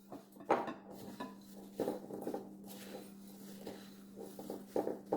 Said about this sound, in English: we're just going to mix those dry ingredients up